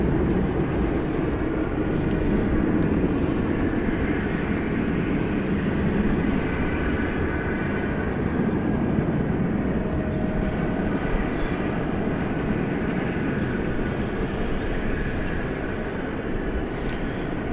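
Aircraft at DFW Airport, a broad, steady engine roar that holds at an even loudness throughout, fairly close, with no talk over it.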